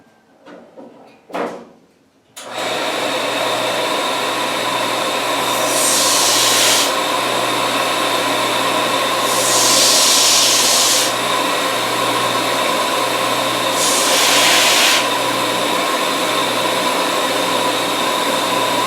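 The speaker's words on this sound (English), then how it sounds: "I'm going to hit it on the belt sander." A belt sander shapes an English walnut air rifle gunstock, a steady loud motor whine and belt hum that runs on continuously after a couple of knocks, rising into three hissing grinding passes as the wood is pressed to the belt.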